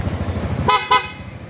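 Two short horn toots sound from a Kawasaki Barako II motorcycle, fitted with a full-wave electrical setup, over the low idle of its engine.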